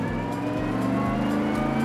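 Bentley Continental GT3 race car on the Silverstone GP circuit, a steady droning engine note with a sustained high whine, heard continuously at moderate level with no speech.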